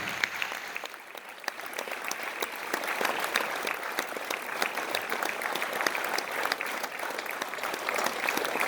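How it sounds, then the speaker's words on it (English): Audience at a girls' final of a competition applauds volunteers coming on stage, a dense, steady wash of many hands clapping throughout with little else audible. "Please welcome our volunteers, ladies and gentlemen, with a huge round of applause."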